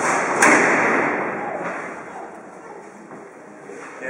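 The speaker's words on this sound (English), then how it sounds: "You hear that bang, clang, especially when the door was closing behind them" Cell doors at Alcatraz slam shut along a row. One sharp, loud metallic bang opens the clip, and softer clanks and a fading echo follow in the large hall.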